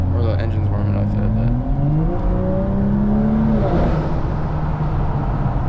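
A 500 hp BMW 435i engine on the move, revving steadily as its pitch climbs through the gears; the drone is loud and close, with some talking over it and no burble on the overrun.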